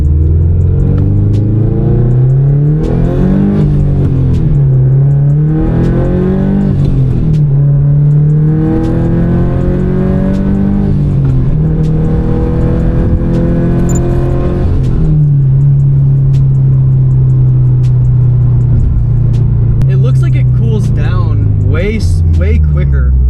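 Car engine droning steadily while cruising on the road with a turbo blanket fitted, a rising and falling hum as speed shifts, with someone talking over it throughout.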